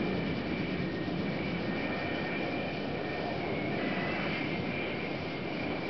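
An F-4 Phantom jet on an aircraft carrier flight deck gives off a constant, loud engine roar with a high whine, steady throughout with no talk.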